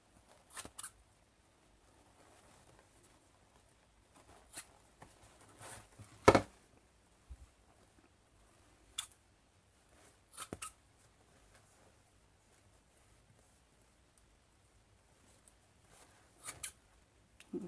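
Scissors snip through craft material for an altered basket, a series of short, sharp, isolated cuts spaced irregularly against near silence, one louder snip in the middle.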